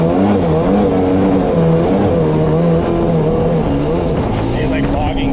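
A Sea-Doo XP Limited jet ski with a 951cc engine runs loud and close, its droning pitch wavering and sagging as the revs bog down and fall off, steady and without a break.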